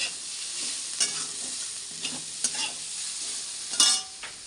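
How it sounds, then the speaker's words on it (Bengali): Potatoes and onions frying in a pan, a steady close sizzle with occasional scraping clinks of a spatula stirring, no talking. "এখন আলু আর পেঁয়াজটা ভেজে নিচ্ছি"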